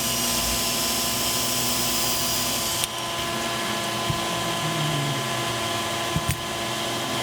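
A lathe turns a prop part for a Reaper shotgun down to a cylinder, giving a steady broadband whirring drone that runs the whole time with a few brief clicks and knocks, close and fairly loud, with no talking.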